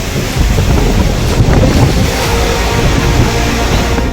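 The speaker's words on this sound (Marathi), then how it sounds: "मुसळधार पाऊस," Torrential unseasonal rain is driven by strong wind of about 25 km/h, a loud roaring wash with heavy wind buffeting across the microphone, steady throughout and with no voices.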